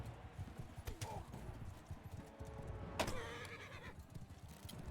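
Horses gallop in the Realm of Thrones video game, rapid hoof clip-clops running throughout with a brief whinny and a sharp clash midway, fairly faint under a busy game mix.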